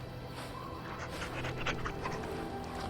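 A dog in the Dragon Age video game pants steadily and rapidly, a continuous breathy rhythm at moderate level over a constant game background hum.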